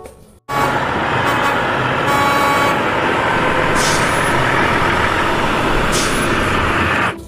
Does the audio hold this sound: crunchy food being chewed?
no